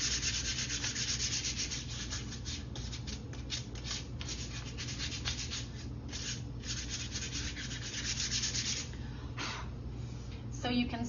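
Steady abrasive rubbing of sandpaper on a wooden craft pumpkin, a continuous close scratchy texture lasting throughout with slight rhythmic strokes and no speech.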